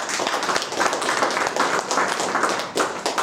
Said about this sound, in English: Can we all give a round of applause to Matthew and Stephanie Denise?